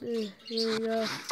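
Pet birds chirp and tweet indoors in short, faint calls, heard briefly under a voice as he talks while gaming.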